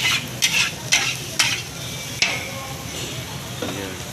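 Red nasi goreng fries in a wok at a roadside stall, with a metal spatula scraping and clanking in regular strokes roughly every half second over a constant sizzle, close and fairly loud.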